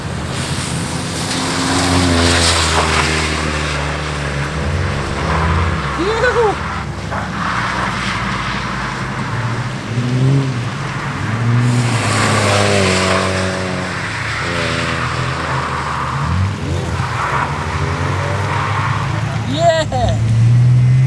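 Front-wheel-drive Nissan Pulsar with a wing and neon lights drifting on the handbrake, engine revving loudly with tires squealing in repeated bursts, while people talk and shout over it.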